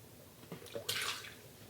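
Liquid is poured into a blender jar for a breakfast smoothie, a short close splash and trickle of about a second, faint at the start and then louder and bright, with no talk.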